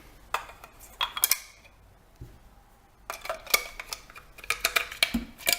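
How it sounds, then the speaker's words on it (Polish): A plastic sieve and auger are fitted together while assembling an AKIRA 3G Premium slow juicer, giving close, sharp clicks and clattering knocks in short bursts with a quiet pause midway and no talking. "Możemy złożyć sito ze ślimakiem."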